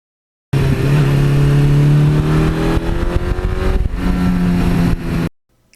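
A 1982 Suzuki GS1100E motorcycle engine running loud and close, a steady droning hum that climbs slightly in pitch, then eases as if shifting, before cutting off abruptly.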